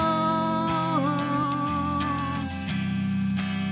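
A guitar strums a progression of sustained chords, changing every half second or so, played alone with no voices.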